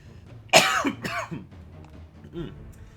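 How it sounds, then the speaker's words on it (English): A single sharp cough bursts out, followed by a couple of smaller throat-clearing coughs, close and loud against a quiet room. "And also, I have to cough."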